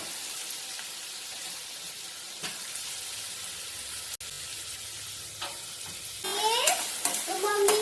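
Onion frying in hot oil in a kadhai for an okra stir-fry gives a steady, soft sizzle with stirring scrapes throughout, then a brief livelier burst near the end.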